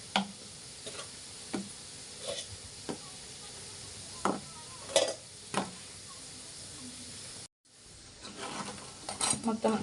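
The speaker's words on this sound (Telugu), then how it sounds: "మనం చేసుకున్నవి పాకంలో వేసుకుందామండి" Sweets are dropped into sugar syrup in a pan and turned over, giving scattered soft clinks and scrapes with a light bubbling bed of sound, a brief gap, then a busier run of stirring.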